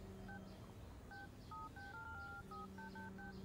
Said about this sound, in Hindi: ये तो फोन पर क्या टिप टिप कर रही है?